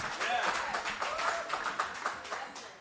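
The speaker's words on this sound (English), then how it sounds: "That deserves a round of applause." Audience at an evening gathering applauding a long-married media couple, a moderate patter of clapping with individual claps audible, fairly near and fading slightly as it goes.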